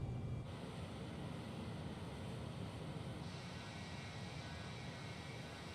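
A steady, even jet-engine roar from an A-10 in a flight simulator game, a constant broadband drone with no breaks or talking, held at a fairly low level throughout.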